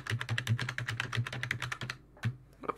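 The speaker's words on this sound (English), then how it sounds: "You can type the password if you want, but I'm gonna type one." A password is typed on a computer keyboard: a quick, uneven run of crisp key clicks close by, with a brief pause before a few final taps, and no talking.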